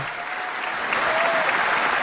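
Loud, sustained applause from a large crowd welcoming a US president and first lady at a formal event, a continuous dense wash of clapping swelling slightly toward the end.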